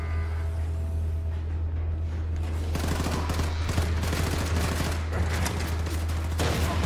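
Sustained automatic gunfire in the shooter Wolfenstein 2 The New Colossus, a loud continuous burst of rapid shots over a low steady rumble, with no talking.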